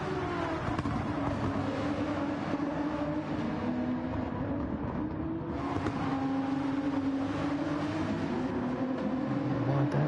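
A Porsche GT1 race car in a racing video game revs with a steady, droning engine note that rises and falls as it shifts, loud and continuous for about ten seconds, with no voices.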